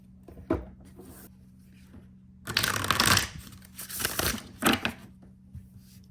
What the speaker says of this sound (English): Sorry guys, my shuffling technique is not there yet.